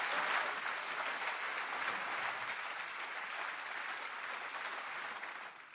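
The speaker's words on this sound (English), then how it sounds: "Sorry for the little pauses between the applause." Steady applause from a conference audience at a robotics software event, a dense even wash of clapping that holds for several seconds before easing off at the end.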